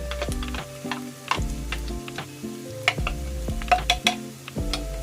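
Garlic frying in a pan for squid adobo gives a soft sizzle under repeated clicks and taps of a utensil stirring against the pan, irregular and close, with no talk.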